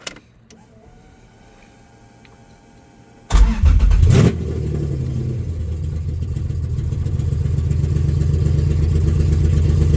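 A 1983 Toyota Corolla with a swapped 2JZ engine cranks and fires up after a quiet lull, the engine catching with a loud burst and then settling into a steady, rough idle that rises slightly toward the end, with no talking.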